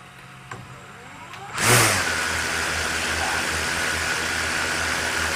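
A quiet room hum, then the motors of a DJI Mavic Air 2 drone with Master Airscrew Stealth propellers whir up abruptly and settle into a steady, droning idle on a table with a low pulsing buzz, close by and fairly loud.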